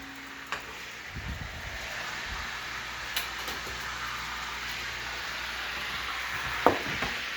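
A spoon stirs goulash meat in a pot, giving scattered soft scrapes and clinks over a faint steady sizzle, with one sharper knock near the end.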